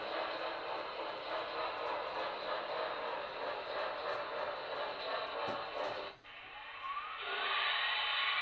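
A model train locomotive runs steadily with a continuous mechanical whir and rumble up close, briefly dipping near the end before the motor hum resumes, with no voices over it.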